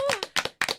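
Audience at a talk on financial wisdom claps in a few short bursts, loud and close, with quick uneven hand claps that stop after under a second.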